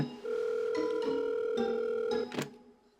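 A steady two-tone telephone ringing signal drones continuously for about two seconds, then cuts off with a brief click, heard through a handset.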